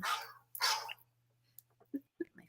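A phone ringtone imitating a dog's barking plays during an indoor talk-show conversation, a few sharp recorded barks and yips in quick succession, close and fairly loud.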